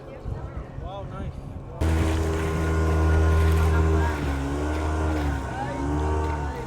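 A boat in Bali motors along while towing another boat behind it. The engine drone cuts in loud and close after a brief stretch of voices, then holds steady with a slight waver in pitch.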